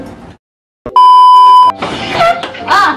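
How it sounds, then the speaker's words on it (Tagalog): A cellphone rings with a steady electronic beep tone lasting under a second, loud and close, after a brief silence, followed by muffled talk and background noise. "May tumatawag yung cellphone."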